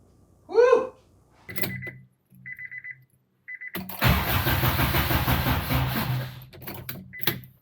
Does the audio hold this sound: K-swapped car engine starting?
yes